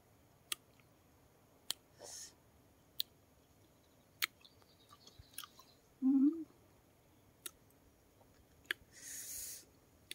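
Someone eats tamarind, producing sparse, quiet crunchy clicks and chewing bites spaced a second or two apart, with a couple of brief soft rustling bursts in an otherwise still setting.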